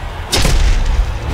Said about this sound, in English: Loaded. Stand clear. Fire in the hold.